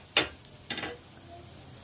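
Paneer and puffed rice tikki frying in a pan over low to medium flame, two short bursts of sizzle and scraping as they are turned, then a quiet, faint background sizzle.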